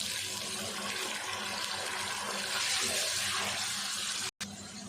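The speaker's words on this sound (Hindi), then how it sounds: "थोड़ा सा पानी डाल देते हैं।" Water is poured steadily into a cooking pot of chicken pulao with tomatoes, a continuous close splashing gush that runs for several seconds and cuts off sharply near the end.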